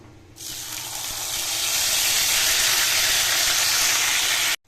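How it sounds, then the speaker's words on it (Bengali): Boiled onion and tomato puree hits hot oil for a peas and paneer gravy, setting off a loud, steady sizzling hiss that starts abruptly, holds for about four seconds, then cuts off. "এই পিউরিটা এবার আমি তেলে দিয়ে দেবো।"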